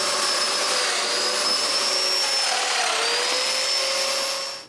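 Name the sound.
drilling mortises in a wooden dresser frame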